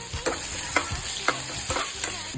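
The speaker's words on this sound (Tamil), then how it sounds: "திரும்ப அதே பேனில் லைட்டாக ஆயில், பிரியாணி ஸ்பைசஸ், ஒரு ஸ்பூன் சோம்பு, எல்லாத்தையும் வதக்கலாம்." Onion, biryani spices and fennel seeds sizzle and fry in hot oil in a pan while a spoon stirs them with rhythmic scraping strokes, close and steady.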